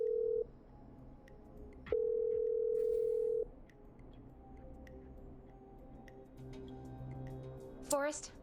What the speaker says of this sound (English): Okay, I'm dialing.